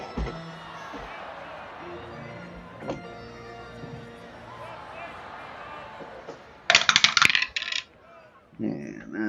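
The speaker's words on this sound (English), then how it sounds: "he dropped the dice" Dice rattle and clatter in a short burst of sharp, bright hits while rolled for an APBA tabletop baseball game simulating the 1978 Braves at Pirates, coming after stretches of quieter background.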